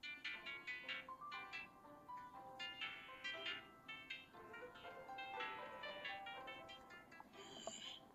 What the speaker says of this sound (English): Suddenly a phone rings.